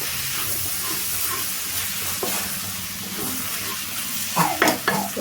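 Sauce is stirred into a fried rice mixture sizzling in a pan, a steady loud frying hiss with a few sharp spatula scrapes near the end.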